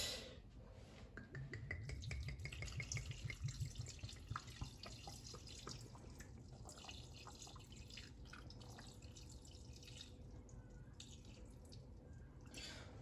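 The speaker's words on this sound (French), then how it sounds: "nous allons mettre 250 g de vin rouge" Red wine poured into a Thermomix bowl, a soft continuous liquid trickle and splash running for most of the stretch, moderately close, with no talk over it.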